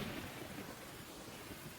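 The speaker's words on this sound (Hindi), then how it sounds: "कैसी भयंकर बरसात हो रही है, हाँ? बिजली भी कड़क रही है" Heavy rain pouring down with rumbling thunder, a dense continuous roar filling the space, fairly faint and steady throughout with no voices.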